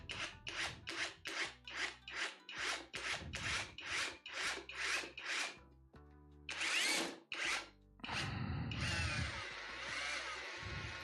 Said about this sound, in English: let's drill with the long drill through all this cardboard